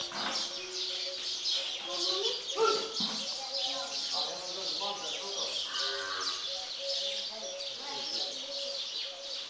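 A cow moos several times in drawn-out, tonal calls at moderate distance, with birds calling and people talking in the background.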